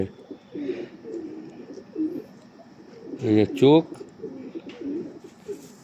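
Pigeons cooing close by in soft repeated throaty rolls, with one louder burst of coos partway through, while someone talks quietly over them.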